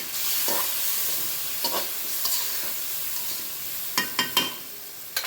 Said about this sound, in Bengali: আলুটা একটু কষিয়ে নিব।